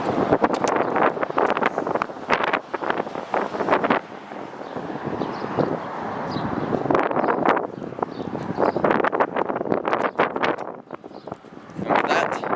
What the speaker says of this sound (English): It's also really windy here.